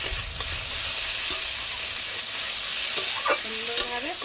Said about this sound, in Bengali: এবার কিন্তু ভালোভাবে কষাতে হবে। আনাজ কষানোর উপরে রান্নাটা হয়।